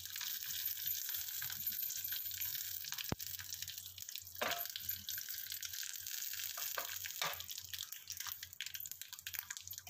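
Dried red chilies and curry leaves sizzle in hot tempering oil on low heat, a constant faint crackling hiss with scattered pops and a couple of sharper clicks.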